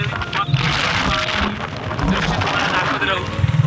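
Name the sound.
heavy monsoon rain at Malshej Ghat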